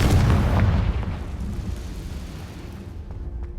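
A Confringo spell explosion in Hogwarts Legacy: one loud, deep boom at the start that rolls off into a fading rumble over a few seconds, with no voices.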